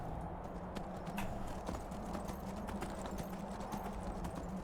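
Horse hooves clip-clop at a steady trotting rhythm in Skyrim, the footfalls soft and fairly quiet over a low ambient game background with no talking.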